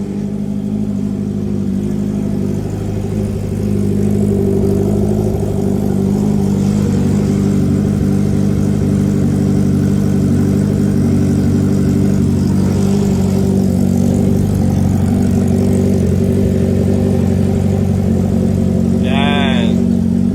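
Honda CB650R, Triumph Trident 660 or Kawasaki motorcycle idling with an aftermarket exhaust, a steady low rumble held for the whole stretch, a person talking over it at times and a brief high chirp near the end.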